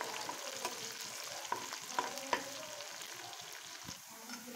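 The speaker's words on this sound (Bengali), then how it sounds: "আমার এখন পেঁয়াজ রসুনটা ভাজা হয়ে গেছে" Chopped onion and garlic fry in a pan, a soft continuous sizzle broken by a few scraping stirs and small clicks, fairly quiet and close, with no talking.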